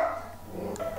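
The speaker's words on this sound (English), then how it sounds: "my dog is still barking" Pet dog named Charlie barking indoors during a Minecraft minigame session, a loud nearby bark standing out against steady room noise.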